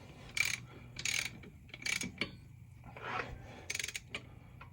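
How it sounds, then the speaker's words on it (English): Torque wrench tightening a bolt on an ATV engine to 75 foot-pounds, close ratcheting clicks in short bursts with pauses between pulls, no talking. "we're at 75 foot-pounds on the torque wrench"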